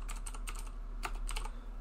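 Typing on a computer keyboard, short bursts of quick, light key clicks in a rhythmic run, close but faint over a low steady hum, no talk.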